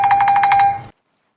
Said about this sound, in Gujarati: ફોન વાગે